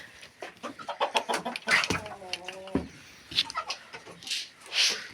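Farmyard poultry crowd in for scattered grain at feeding time, brooding ducks and geese among them, with clucking and squawking calls bursting out irregularly near and loud, a short honking call standing out midway, all over a busy open-air background.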